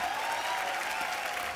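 A studio audience on The Kapil Sharma Show applauds the arrival of two guests, a brief, even wash of clapping at moderate level with a faint tonal line beneath.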